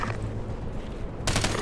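Rapid bursts of gunfire from the video game Ghost Recon Advanced Warfighter 2, with a sharper, louder volley near the end over a constant background rumble.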